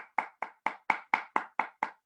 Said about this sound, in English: Give a round of applause for Sasha Lopez Watson.